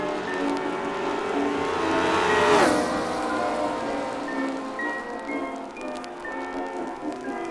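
Race cars in the ORL Tasman Series at Teretonga roar past on track, one engine swelling loud and sweeping by with a falling pitch around the middle, with steady engine drone from others before and after.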